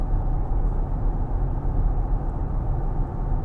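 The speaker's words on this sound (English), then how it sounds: "A lot of that sound is coming from the off-road tires" Steady broadband road roar from off-road tires heard inside the cabin of a 2023 Nissan Pathfinder Rock Creek V6 cruising on the interstate, a constant low rumble with a faint engine hum and no other events.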